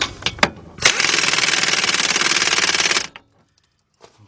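Impact wrench tightening a wheel hub assembly bolt on a 2014 Chevy Impala's left front corner, a loud sustained rattling hammer burst of about two seconds after a few brief clanks, then near silence.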